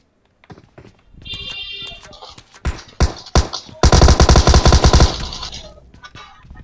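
A Tommy gun firing in a shooter video game, starting with scattered single shots and thuds, then a loud, rapid sustained burst for about a second before it trails off into a few more shots.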